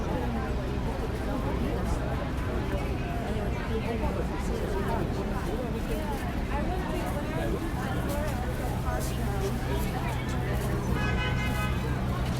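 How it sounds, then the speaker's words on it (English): Busy Brooklyn street traffic rumbling nearby, with a car horn tooting toward the end and a voice speaking over the noise. "Hear the traffic."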